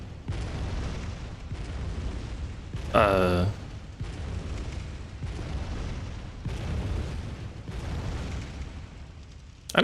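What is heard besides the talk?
cannon shots blasting the bridge in video game Bloodborne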